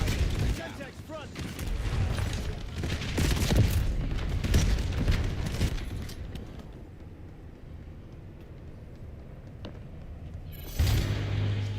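A Semtex grenade blast amid dense gunfire in Call of Duty Black Ops 7 multiplayer, a loud, busy stretch of shots and booms that fades to quieter rumble before another sharp hit near the end.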